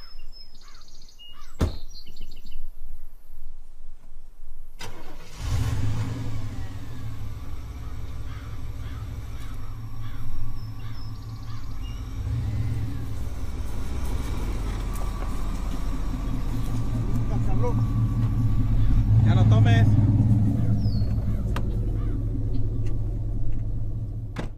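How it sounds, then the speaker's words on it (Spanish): A 1940 Triumph car's engine cranks, catches and settles into a steady low rumbling idle that grows slightly louder, with faint bird chirps in the background. "Un Triumph 1940. Uno de los mejores carros europeos que tanto quería."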